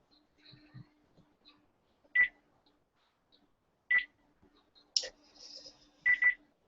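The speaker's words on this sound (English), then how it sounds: "I'll call Grandma's cell phone." Short electronic beeps sound at intervals, like phone dialing tones when calling a cell phone, quiet against near-silence with a faint voice murmuring in between.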